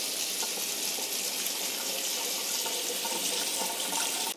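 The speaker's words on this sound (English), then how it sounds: "run it under cold water for at least 30 seconds" Cold water runs from a kitchen tap in a continuous, fairly loud stream while something is rinsed for a Greek-inspired dinner, then cuts off at the very end; no talking.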